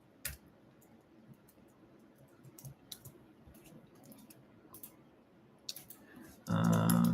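Someone types on a computer keyboard, scattered sharp clicks and short bursts of keystrokes, quiet and close, ending in a louder burst of noise.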